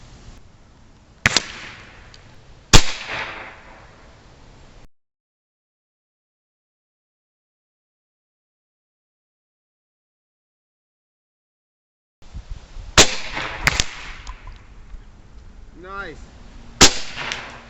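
An Evanix Rainstorm 3D .357 (9mm) air rifle fires two sharp shots close together early on, followed by two or three more sharp cracks after a long silent gap, with people talking briefly in between.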